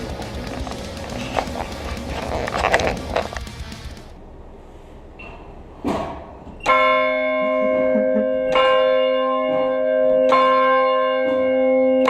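Church bells toll at 2 pm, with clear sustained ringing strokes repeating over several seconds after an earlier stretch of footsteps and ambient outdoor noise.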